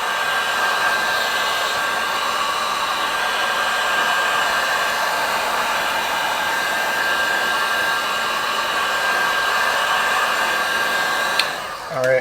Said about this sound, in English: I'm going to take my heat gun, just heat this up to make it easier to remove